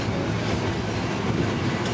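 A Gatorland park train in Orlando, Florida rolls steadily along its rails, giving a continuous, even rumble and rattle of the moving cars with no pauses and no voices.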